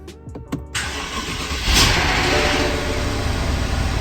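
A crashed salvage-auction BMW 550i engine cranks, then catches and settles into a loud, rough, uneven running roar up close.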